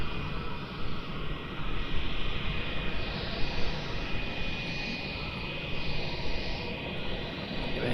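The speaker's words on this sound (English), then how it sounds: "just coming over Melbourne City, approach 34 is the China Airlines A350" A China Airlines Airbus A350 passes over Melbourne on approach, a steady mid-distance jet rumble with a thin high whine, holding at an even level throughout and heard without voices.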